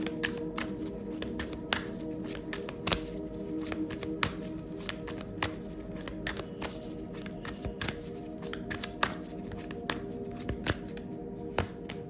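Tarot cards being shuffled steadily at close range, a continuous papery riffle punctuated by sharp flicks and taps at irregular intervals, with no voices.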